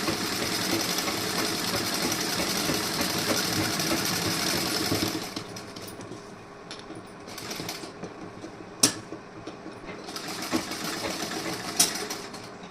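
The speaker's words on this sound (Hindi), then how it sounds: "यहाँ पे मैं इस पर सिलाई लगाऊंगी।" A sewing machine stitches lace onto a blouse, a fast steady whirring that runs for about five seconds and then continues more faintly in short bursts, broken by a few sharp clicks.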